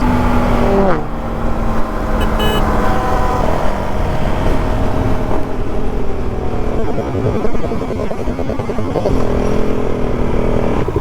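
Motorcycle engines revving hard at high RPM in a race between a Suzuki DRZ400SM, a DRZ400S and a KTM 390 Duke, a loud continuous roar with shifting pitch and heavy wind noise throughout.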